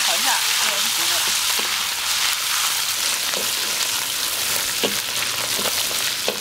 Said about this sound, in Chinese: 把豆瓣酱给炒香，炒豆瓣酱一定要炒一下